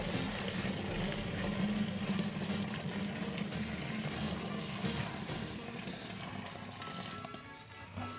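Water is poured steadily into a sanitized bucket of warm beer wort, a continuous rushing splash heard up close for several seconds and easing slightly toward the end.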